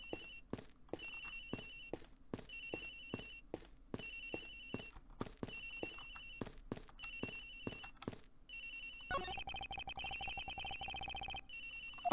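A telephone in the Ace Attorney Investigations video game rings in a steady repeating pattern of electronic bursts, then gives way to a sustained, denser tone near the end. No one talks over it.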